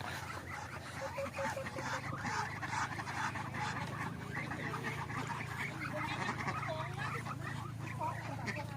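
Ducks quack in a rural village during the rice harvest, a busy cluster of nasal calls mixed with a low continuous hum and some indistinct voices.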